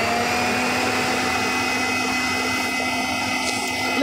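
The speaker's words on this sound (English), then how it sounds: "one last little whisk." Electric whisk whirring at a steady, loud pitch as it mixes a low carb mousse, a continuous close motor drone with no talking.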